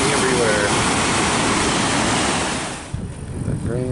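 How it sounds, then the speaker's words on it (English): Water gushes from the back side of Jackson Lake Dam in a loud, steady roar of spewing spray. The rushing drops away near the end, leaving quieter background noise with faint voices. "Here's the back side of the dam. Shooting out water,"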